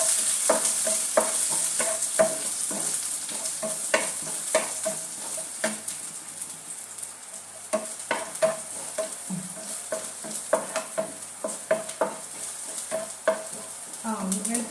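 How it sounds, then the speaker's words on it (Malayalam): Garlic and curry leaves frying in hot oil in a pan, a continuous close sizzle broken by many sharp, regular spatula scrapes and clicks as they are stirred, with no voices. "നല്ലോണം ഇളക്കിയെടുക്കാം."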